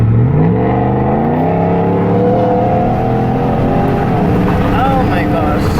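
A truck engine roars loudly and close, its pitch rising then holding as it passes and drones on steadily.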